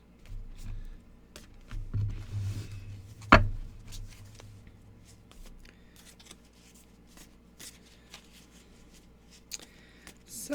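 A deck of reflection cards shuffled by hand indoors, quiet papery riffles and taps in a few bursts, with a louder snap partway through and faint handling afterward.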